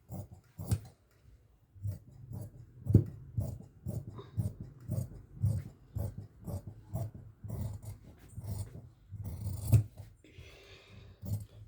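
Scissors snip through layered fabric while the back panel of waist-band palazzo pants is cut, giving a steady series of crisp close crunching cuts with short pauses between them.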